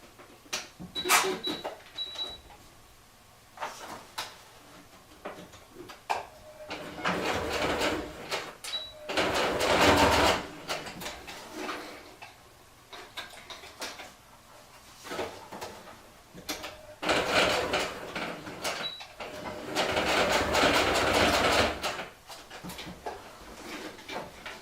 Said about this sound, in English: And then we'll just use the sewing machine to close that off